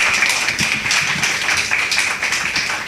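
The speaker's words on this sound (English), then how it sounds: "Another round of applause for Delta." Audience applause at an internal audit department event in Anguilla, a steady wash of many hands clapping that carries evenly through the full three seconds with no voices on top.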